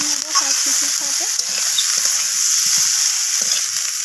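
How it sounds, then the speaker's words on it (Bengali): Red chilli and cumin powder spices stir-fried in hot oil with other ingredients, a steady close sizzle with repeated scraping stir strokes throughout, no talk. "তো সমস্ত কিছু মশলাকে এইভাবে নাড়াচাড়া করে আমি কষিয়ে নেব সব কিছুর সাথে।"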